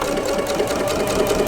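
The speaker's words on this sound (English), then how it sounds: "stitch using the 1/4 inch foot on my machine along that straight line that I drew" A sewing machine with a quarter-inch foot stitching fabric along a drawn line for a flying geese quilt block, a loud, close, continuous rapid whir with no talking.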